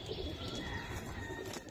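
Pigeons of racer stock coo softly in repeated low, rounded calls, with faint chirps and a brief wing flutter in the background, fairly quiet and close.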